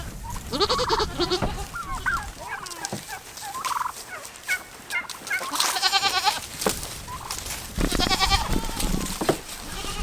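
Goats bleat repeatedly in a farm pen while straw is put out, several loud nasal calls overlapping with rustling and scuffling nearby, with people talking at times.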